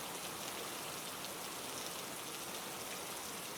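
Steady, unrelenting rain pours down on a dark rainy night, a dense continuous hiss of drops on surfaces with no breaks, filling the scene evenly from start to finish.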